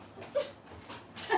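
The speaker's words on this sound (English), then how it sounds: "My dogs are in the living room, but you might hear them bark" Dogs in another room, a living room, give a few short, faint yips and whimpers in quick succession, heard from a distance without any talking.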